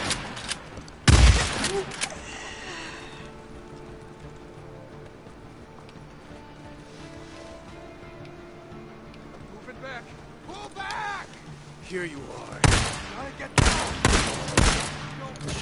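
Gunshots in Days Gone arrive as a few loud, sharp blasts near the start and in a tight cluster toward the end, with quieter game ambience and voices in between.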